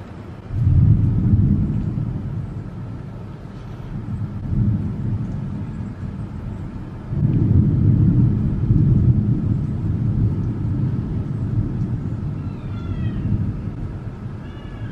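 Thunder rumbles through a crazy storm with lightning outside a house, rolling in three deep, sustained waves that swell and fade over one another, fairly loud and close, with no talk.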